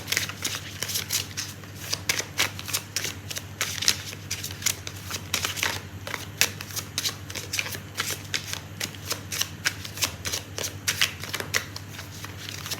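Tarot cards are shuffled by hand in a long run of rapid riffling and crisp card flicks, close and steady, with a low constant hum underneath and no talking.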